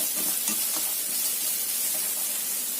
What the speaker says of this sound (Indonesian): Tumis sampai matang.